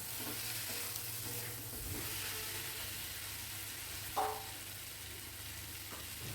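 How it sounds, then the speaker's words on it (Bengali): Boiled potatoes sauté with spices in a pan, giving a continuous even sizzle and stirring scrape, broken once by a brief utensil clank. "আলুগুলো দিয়ে একটু ভালো করে কষিয়ে নেব"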